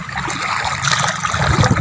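Rushing water and wind at sea from a small boat in rough, windy conditions, a continuous churning splash with gusty noise and low rumbling swells, close and steady.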